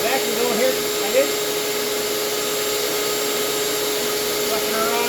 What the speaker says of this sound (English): I got my vacuum here, and like I said, you gotta run your leading edge and get your vacuum going here.